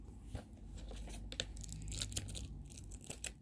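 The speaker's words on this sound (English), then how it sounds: "Give me 1 second, I'm going to take off the stickers" Stickers are peeled off a movie disc case in quiet, close tearing and crinkling bursts, with a few sharper rips near the end.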